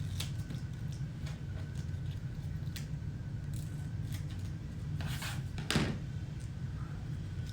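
Scissors snipping adhesive strips in half for floral arranging: a series of sharp, quiet clicks and brief cuts spaced irregularly, one louder snip near the end, over a low steady room hum.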